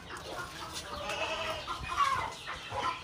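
A goat bleats faintly amid farmyard background noise, with a few short animal calls and soft rustling, fairly distant and not very loud.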